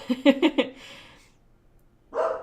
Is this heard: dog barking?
yes